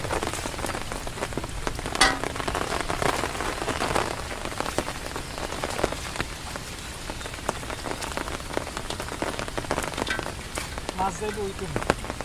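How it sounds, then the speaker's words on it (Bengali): Heavy rain pours steadily on a rural village, a dense, even hiss of drops on surfaces that stays close and constant throughout. "এতক্ষণ বৃষ্টি গেছে অনেক পরিমাণে এখন একটু কমে আবার মনে করেন যে বাড়ে"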